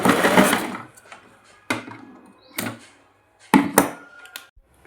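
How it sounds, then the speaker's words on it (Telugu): Sewing machine running reverse stitches along a saree fall, heard as a few short whirring bursts with quiet gaps between them, close and unaccompanied by speech. "ఇక్కడ మళ్ళీ రివర్స్ కుట్టు వేసుకోవాలి."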